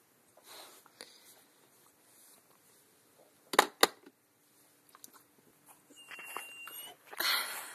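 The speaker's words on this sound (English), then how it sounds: "My dog yawning again." A dog yawns near a quiet indoor microphone, ending in a drawn-out squeaky whine and breathy gape after a few small clicks and rustles.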